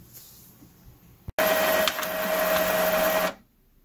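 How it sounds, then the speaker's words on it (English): Printer feeding and printing on 120-pound Georgia Pacific cardstock: a brief click, then about two seconds of loud whirring mechanical drive with a steady tone, stopping abruptly into near silence. "I don't know what's going on with this printer"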